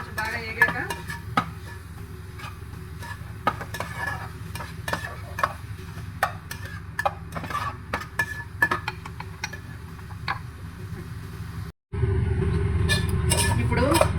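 Garlic and green chillies fry in a pan while being stirred, giving a steady close sizzle with repeated scraping clicks of the spoon, which grows louder and denser near the end.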